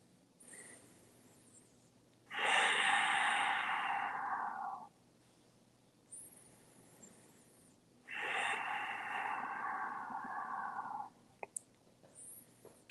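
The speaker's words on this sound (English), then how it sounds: "Breathe here." Slow, deep breaths during an Iyengar yoga practice, two long audible exhales or inhales several seconds each with quiet pauses between, close to the microphone and without speech.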